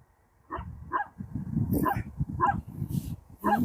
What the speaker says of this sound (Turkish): Burada da köpekler var.